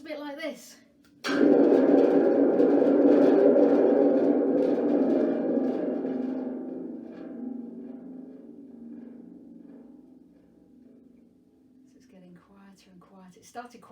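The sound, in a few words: thunder drum shaken, imitating thunder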